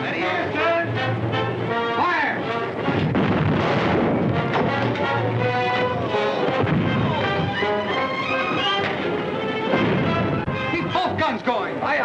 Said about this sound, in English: Guns going.